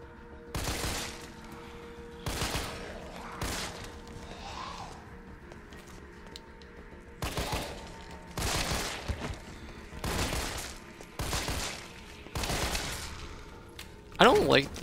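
Pistol gunfire in Resident Evil 3, with about ten loud single shots spaced irregularly across the stretch and a quiet ambient hum between them.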